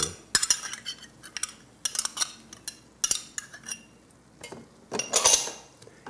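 A spoon stirs picante sauce into a pot of jambalaya, giving several sharp metallic clinks and scrapes against the pot in irregular bursts, close and fairly crisp.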